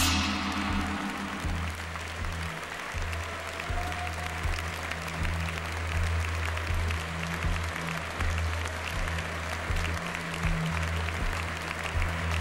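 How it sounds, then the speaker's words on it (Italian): A large crowd in an indoor sports arena applauds at a Miss Italia pageant evening, sustained dense clapping that rises sharply at the start and holds steady throughout, with a low hum beneath. "la consolazione di questo grande applauso del palazzetto"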